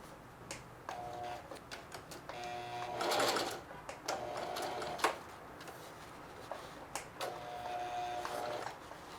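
A sewing machine stitches the back pocket of a pair of blue jeans in several short bursts of rapid mechanical clatter, separated by brief pauses and quiet handling noises, close and moderately loud.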